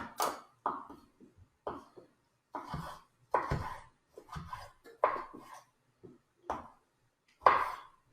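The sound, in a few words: knife dicing a tomato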